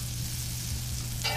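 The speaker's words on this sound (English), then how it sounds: "I just put some butter in the pan and start it to sizzle." Butter sizzling and frying in a pan for a grilled cheese sandwich, a steady close crackling hiss that swells slightly louder near the end, with no talking.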